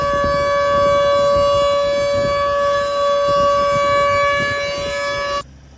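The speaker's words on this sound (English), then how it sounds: "A new advanced warning outdoor siren system was installed" A new advanced outdoor civil defense warning siren at LaGuardo Elementary wails with a steady, loud sustained tone for about five seconds, then cuts off abruptly, with no speech.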